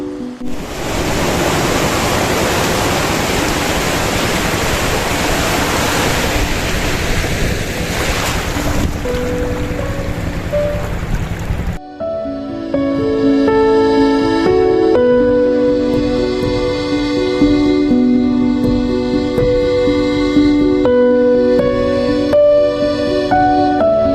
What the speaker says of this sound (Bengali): কাওয়ারচর বিচের সমুদ্র সৈকত